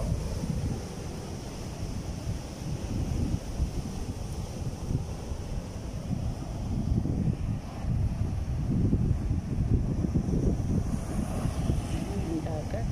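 Sea waves surging and breaking along the shore at Mapula, heard as a continuous broad rumbling wash with wind buffeting the microphone, steady and fairly loud throughout with swells building toward the end.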